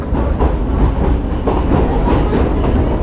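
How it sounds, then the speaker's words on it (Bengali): A Kolkata Circular Railway train crossing a bridge near Khidirpur dock, heard from on board as a loud, steady rumble with rhythmic clickety-clack of wheels over the rails throughout. "ব্রিজের উপর দিয়ে ট্রেন যাচ্ছে"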